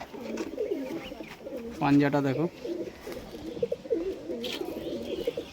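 Result-bred closed-tail pigeons coo in a backyard loft, low throaty calls mixed with someone talking close by and one louder burst of cooing in the middle.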